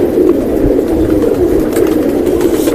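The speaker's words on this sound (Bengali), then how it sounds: "এই কবুতরগুলো এই দেখেন মাসাল্লাহ অনেক সুন্দর সুন্দর কবুতর" Silver pigeons coo steadily in a low, continuous murmur, as if many birds are close together, with no talking.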